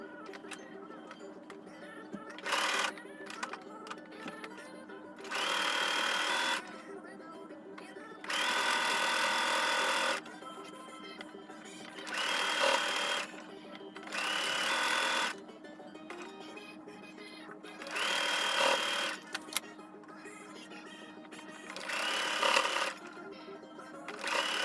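Sewing machine stitching the elastic waistline of a gathered skirt, running in repeated loud whirring bursts of a few seconds each, separated by quieter gaps with faint background sounds.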